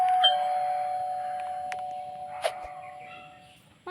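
A doorbell chimes inside a house in the Roblox game Brookhaven, a bright tonal ring holding steady under faint background sound, with a short sharper accent about halfway through.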